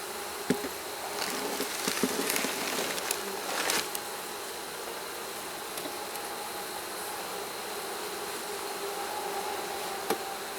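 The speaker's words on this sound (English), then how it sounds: "There's a decent amount of bees in here." Honey bees buzz steadily in an open hive's second brood box as it is prepared for winter, a continuous close drone with occasional brief knocks and rustles.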